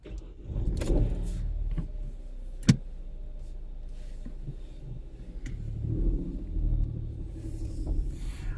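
A car pulls away on a driving lesson: a steady low engine rumble runs throughout, with one sharp click near the middle and the drone rising slightly toward the end.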